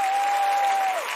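A studio audience on a Brazilian TV variety show breaks into applause: a loud, continuous wall of clapping, with a steady thin tone running underneath that fades near the end.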